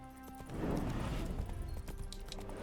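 Horse hooves clip-clop in the video game The Witcher 3: Hearts of Stone, a quick run of close, muffled hoofbeats rising in a burst and then easing, with faint game ambience around them.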